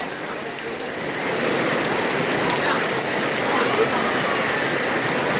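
Steady rain falls during a live outdoor music gathering, a dense, even hiss of drops that swells slightly after the first second and holds constant and fairly loud throughout, with faint background voices.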